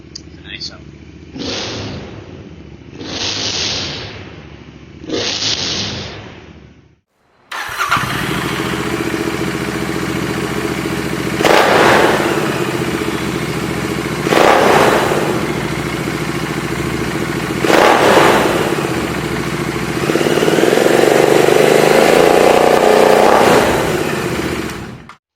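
A motorcycle engine fires up close by after some muffled talk, settling into a rumbling idle punctuated by four or five sharp throttle revs that rise and drop back, with a longer rev near the end.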